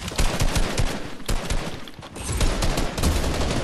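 Loud, continuous bursts of gunfire fill a Fortnite match, rapid shots packed tightly together and running nonstop throughout, with no talking.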